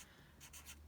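A pen or pencil writes a word on paper, three soft scratchy strokes close by and faint in an otherwise quiet room.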